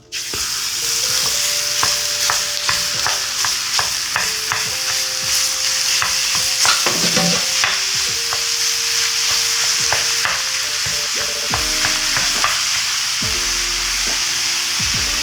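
Pork fries in a ripping hot pan with a loud, continuous close sizzle, frequent stirring clatter and scraping layered over it, and no talking.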